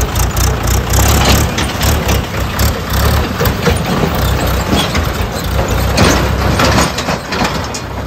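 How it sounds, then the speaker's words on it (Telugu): Motorbikes ride through floodwater in Pedamallam Lanka, a Godavari-district island village, with steady close engine drone and low rumble throughout, no talk. "బైకులు కూడా నీటిలోనే ఆల్మోస్ట్ అన్నీ కూడా నీటిలోనే వెళ్తున్నాయి"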